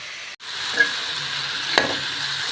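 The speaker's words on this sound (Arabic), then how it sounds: "اتشوحت اهي مع اللحمة مع السمنة" Onion frying with meat in ghee gives a steady, close sizzle with a constant crackling hiss. A brief clatter of stirring comes partway through.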